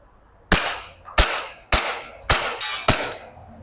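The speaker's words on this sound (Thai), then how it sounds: "ขออนุญาตยิงมือเดียวรอบนี้มือเดียว" A Double Bell 796-1 gas BB pistol fires six sharp, loud shots at irregular intervals of about half a second, each crack followed by a short decaying tail, with near silence before the first shot.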